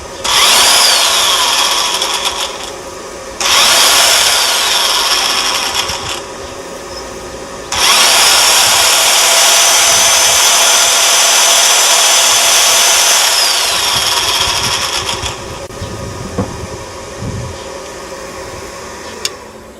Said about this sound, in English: the drill works as if it's plugged into the mains